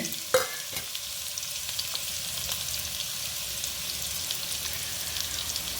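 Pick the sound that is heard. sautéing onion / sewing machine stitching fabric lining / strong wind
sautéing onion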